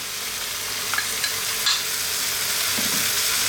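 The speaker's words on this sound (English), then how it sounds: "at this point, we're now going to add in our onion" Chopped onion dropped into a hot pan of browning ground meat for a shepherd's pie, a steady close sizzle and crackle of frying with a few light stirring scrapes and taps, no talk.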